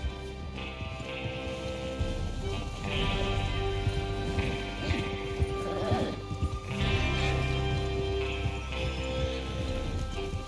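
Horses in Red Dead Redemption 2 move at speed with steady clip-clop hoofbeats and occasional whinnies, mixed with a continuous game music bed and faint rain-like patter.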